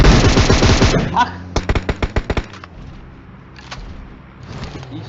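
Rapid bursts of automatic gunfire in a multiplayer shooter match, a loud dense volley at first, then a quick string of separate sharp shots, with softer distant shots later and some faint background voice.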